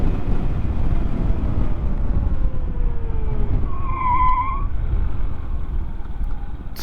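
A motorbike's rear brake locks up and the tyre skids on the road, a rising squeal standing out against steady engine and wind rush before the bike comes to a stop.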